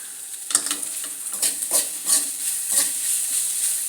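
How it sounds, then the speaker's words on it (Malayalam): Onions and curry leaves fry in a pan, giving a steady high sizzle with several soft stirring scrapes spaced through it and no talking. "കാണുന്നില്ലേ പോലെ ഉള്ളി വാടി വന്ന് ഇനി നമുക്ക് കരിയാപ്പില കുറച്ചിടാം."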